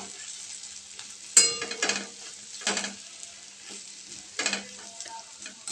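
Dry potato sabzi sizzles in a covered pan on a gas stove, a steady soft frying hiss broken by a few clattering stirs and lid or utensil knocks, with no talking.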